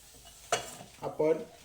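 Ragda patties filling mixture being stirred in a pan, with a few distinct scraping and clinking strokes of the spoon over a soft sizzle, close and moderately quiet.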